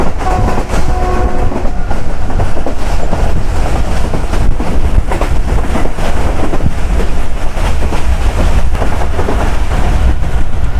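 The Hazara Express passenger train in Pakistan rolls along loudly and steadily, wheels clattering in a continuous rhythm with wind buffeting close by; a horn sounds briefly near the start.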